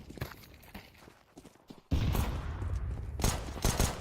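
P250 pistol gunfire in a Counter-Strike match, a run of sharp close shots and bursts that grows into steady, dense firing over the second half with faint footsteps before.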